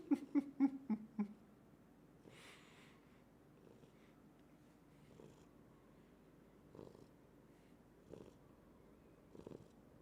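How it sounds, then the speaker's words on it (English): A pet cat purrs softly and close by, with low rumbling pulses repeating every second or so after a short burst of louder sounds at the start, and no talking. "You hear him purring."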